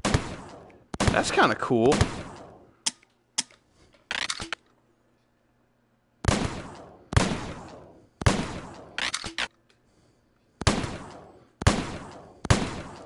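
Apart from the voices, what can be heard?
gunfire from a gun in the video game Rec Room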